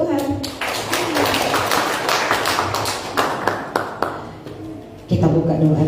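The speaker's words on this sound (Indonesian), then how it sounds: "Haleluya, tepuk tangan buat Tuhan." A church congregation claps for God during a sermon, a dense burst of hand claps and taps that swells then thins over several seconds before a voice takes over near the end.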